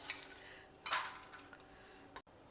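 Serving a crispy bitter gourd fry onto a plate brings a few light clinks and scrapes of utensil against dish, close and quiet, with short gaps between touches.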